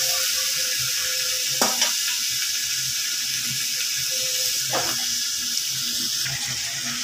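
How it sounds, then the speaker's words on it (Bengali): Flat beans and potatoes frying lightly in oil, giving a steady, dense hiss close by, with a couple of brief knocks or stirring sounds cutting through now and then. "আমি এর মধ্যে শিম আর আলুগুলো ভেজে নেব, খুব বেশি বাঁধবো না, হালকা একটা ভাজা দিয়ে দিচ্ছি"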